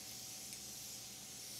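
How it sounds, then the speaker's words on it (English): Morphe setting spray is spritzed onto a face as a soft, steady, fairly quiet hiss lasting under two seconds, with no talking. "Now I'm just going to spritz my face with some Morphe setting spray"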